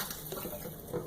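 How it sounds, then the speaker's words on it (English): Warm water being poured out of a measuring vessel into a kitchen sink, a steady splashing trickle of liquid at close range, continuous and moderately quiet. "I think the water is a little bit too warm, so I'm gonna just pour that out"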